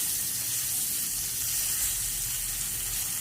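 Pieces of fish coated in turmeric fry in hot oil, giving a steady, dense sizzle that holds evenly throughout at close range.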